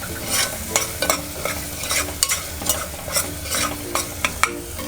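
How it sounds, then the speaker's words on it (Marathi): Onion, tomato, chili, coriander, ginger and garlic paste frying in oil for a Bihari chicken masala, with steady sizzling and repeated scraping stirs of a spatula against the pan, close and fairly loud, no talk. "कांदा टोमॅटो आपलं जे वाटण टाकलं होतं मिरची कोथिंबीर आलं लसूणचं, ते आता चांगलं परतून घेऊया तेल सुटेपर्यंत."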